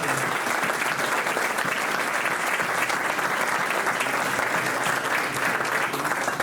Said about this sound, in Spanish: Así que un aplauso para Marcelo.